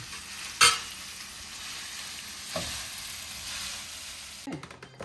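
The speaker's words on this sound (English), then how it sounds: "my Italian sausage is still cooking away behind me" Italian sausage frying in a pan, a steady close sizzle broken by a sharp utensil clink and a soft scrape, then a few clattering knocks near the end, with no talk.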